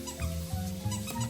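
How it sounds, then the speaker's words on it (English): A puppy gives about four short, low, gruff barks in quick succession indoors, fairly faint and close together, with no talking over them. "That's a big bark."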